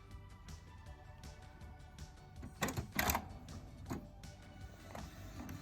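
An inkjet printer prints a fabric pattern, with quiet mechanical whirring and clicking building to a couple of louder feed bursts in the middle, heard up close without talking.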